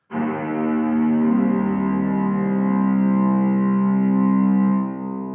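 A thick, sustained string chord from Soundiron's Hyperion Strings Micro swells in and holds, washed in a deep, shimmering reverb impulse response that smears the tone before it fades.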